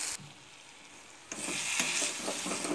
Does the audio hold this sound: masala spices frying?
yes